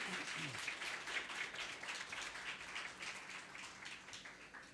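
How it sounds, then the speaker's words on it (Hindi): Sustained applause from a church congregation, dense and steady clapping filling the whole stretch, with no pause. "जोर से प्रभु के लिए ताली बजाएं सारी बातों के लिए।"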